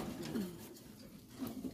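Fancy king pigeons, black and white, coo softly in a loft, a few low throaty rolling calls at a moderate distance.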